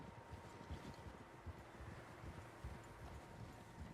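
Several horses trotting in Red Dead Redemption 2, a soft steady clatter of hooves under a constant windy rush, fairly quiet and distant throughout.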